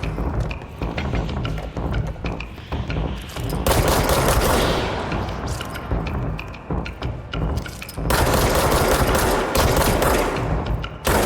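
Rockets and heavy gunfire in the video game Control, loud sustained bursts of blasts and rattling fire that surge around four and eight seconds, with quieter mechanical clatter between them and no talking.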